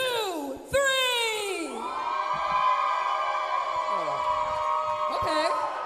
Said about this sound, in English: if you want this match to last for 10 minutes, I need you to cheer extra loud